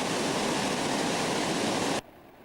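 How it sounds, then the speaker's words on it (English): The Gurgl River, a mountain river in the valley near Obergurgl, roars as a loud, dense, steady rush of water, cutting off abruptly near the end. "That's the main Gurgl River"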